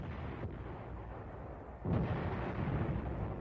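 Army artillery fire during the Korean War, one dull low boom that lands in the middle and leaves a rumbling tail over a continuous background roar.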